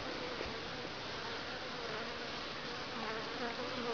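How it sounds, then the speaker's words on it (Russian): A bee buzzes steadily and close throughout, a continuous insect drone with no voices over it. "Может укусить, видишь, пчелка?"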